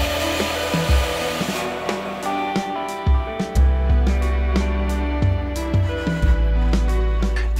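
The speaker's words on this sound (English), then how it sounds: "I'm going back to the bandsaw, removing material here and there." A bandsaw cuts reclaimed dumpster wood with poor end grain. A steady motor drone is broken by repeated loud, grinding bursts as the blade bites into the wood, then eases off between passes.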